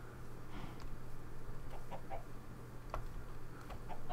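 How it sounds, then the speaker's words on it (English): A chicken in the Minecraft video game clucks softly in short repeated bursts over a steady low background hum. "Wow, chicken."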